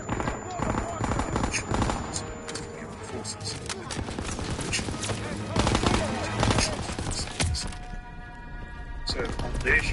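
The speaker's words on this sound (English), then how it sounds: "Fire on the MG!" Rapid machine gun bursts and scattered gunfire from the Call of Duty WW2 video game, loud and dense throughout, mixed with shouting voices and battlefield clatter.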